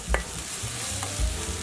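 Chicken pad thai stir-fried in a pan with bean sprouts and tofu being tossed in, giving soft scraping stirs and a low sizzle, with a couple of louder clanks of utensil on pan, close and with no talking.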